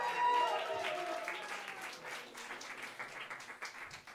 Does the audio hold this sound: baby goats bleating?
no